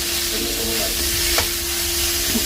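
Boiled vegetable stalks fry for a stalk curry, giving a constant loud close sizzle with a faint steady hum underneath and one small stirring tap, no speech.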